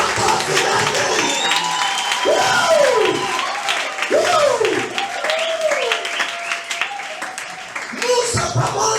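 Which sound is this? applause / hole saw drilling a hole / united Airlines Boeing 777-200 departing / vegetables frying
applause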